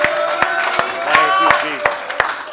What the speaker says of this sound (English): Let's give the Lord a big hand clap this morning.